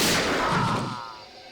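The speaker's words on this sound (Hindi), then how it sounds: "चली चली चली गोली चली" A single loud gunshot in a CID crime drama scene, a sharp blast with a decaying echo tail, alone with no talk.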